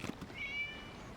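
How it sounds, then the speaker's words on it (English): A single short cat meow from the video game Genshin Impact, set against quiet background music, with a brief tonal cry rising and fading. "It was just a cat."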